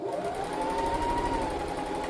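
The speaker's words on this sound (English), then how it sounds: "besides the sewing machine" A sewing machine runs steadily, stitching a lining piece onto a garment yoke, its continuous motor hum and rapid needle drone filling the close indoor space without pause and with no speech.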